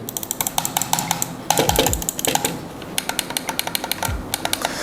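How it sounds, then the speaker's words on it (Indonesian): Sharp, rough clicks from the buttons of a Comic CMG gaming mouse, pressed again and again in a quick, uneven rhythm, close and fairly loud, with a short pause in the middle and no talking. "tombol-tombolnya yang kasar banget kliknya. Nih, kalian bisa dengar sendiri nih"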